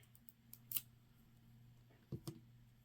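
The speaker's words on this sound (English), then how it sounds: "And then snip it off closely." Scissors snip off the yarn end of a crocheted half double crochet scarf, a quiet close cut followed later by two more brief clicks of the blades, with low steady background hum.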